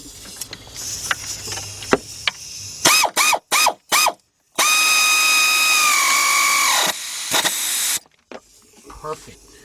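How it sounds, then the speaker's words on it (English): A bolt is tightened with a 3/8-inch drive deep socket during an alternator replacement on a BMW 528i. Several short, sharp mechanical bursts are followed by a sustained, loud whirring whine close by, then scattered clicks. "tighten up that bolt"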